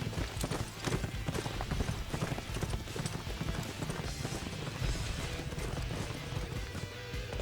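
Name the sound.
horse hooves clip-clop in video game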